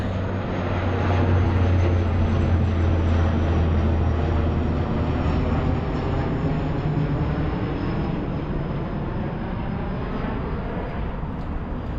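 A plane flies over Calgary near Memorial Drive, a loud sustained broadband roar with a low rumbling hum, steady and continuous for the full twelve seconds, with no voices.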